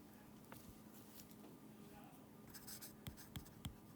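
A pen writes on paper during a chemistry final review, with quiet scratchy strokes and taps that turn into several sharper marks near the end, faint and close under low room noise.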